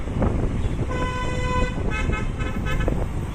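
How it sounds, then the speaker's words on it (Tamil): Busy road traffic in Gandhipuram, with car horns honking in several short toots over a continuous rumble of engines and passing vehicles nearby. "நல்லா டிராஃபிக்காக தான் இருக்குது இந்த பக்கம்"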